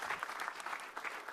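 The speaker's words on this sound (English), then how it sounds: "round of applause" Audience clapping after a pitch at a startup competition, a brief dense burst of applause from a crowd, fairly distant and even, with no voices over it.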